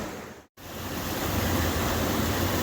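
Water rushes steadily through a creek at a gold prospecting site, a loud, dense broadband roar that cuts out for a moment at the start and then continues unbroken, close to the microphone.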